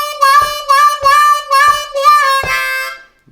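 C harmonica lick from a song with hand wah and bent inflections, several pulsing phrases with soft breathy attacks, ending on a held blow note that bleeds into a neighbouring hole, close and solo.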